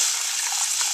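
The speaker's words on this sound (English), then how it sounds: "I'm just about to add the hot water now" Hot water pours steadily onto rice cooking in a pan, a continuous bright hiss and gush, close and fairly loud with no voices.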